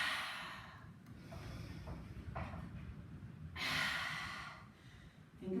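Slow, audible breaths drawn in through the nose and let out through the mouth during an active recovery workout, with a stronger breathy exhale near the end, close and fairly quiet.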